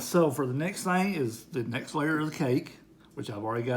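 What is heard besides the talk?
None of the usual background noises is heard.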